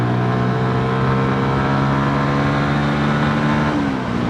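A new-engined 2022 MASH X-ride 125 motorcycle holds a steady, buzzing rev in 4th gear at around 40 mph, its tone climbing slightly and then dipping near the end, heard up close without talk.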